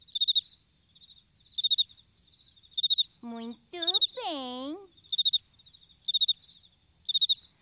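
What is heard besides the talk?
cricket chirping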